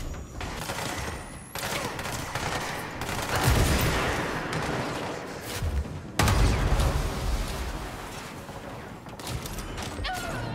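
A charged gun firing in Control, heavy blasts with a broad roar around the fourth and sixth seconds amid dense, noisy combat sounds.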